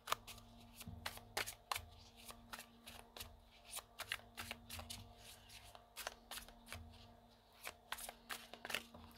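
Oracle cards are shuffled by hand in a quiet room, giving a run of crisp riffling and slapping bursts in an irregular rhythm, close and fairly soft over a faint steady hum.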